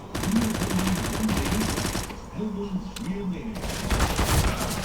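Rapid SMG gunfire in CSGO competitive play, with sustained automatic bursts close and loud, briefly broken by quieter moments before firing resumes, mixed with other game sounds.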